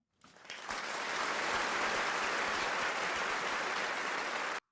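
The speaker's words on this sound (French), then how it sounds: "Par exemple, je vais prendre des applaudissements" A library applause effect plays: a large crowd bursts into clapping that swells within a second, holds dense and steady for about four seconds, then cuts off abruptly.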